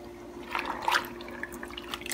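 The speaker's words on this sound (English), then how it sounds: "Let's see if we can stir this around a bit." Pickles being stirred in brine while bread and butter pickles are canned, giving soft close-up sloshes and a few small liquid splashes over a faint steady hum.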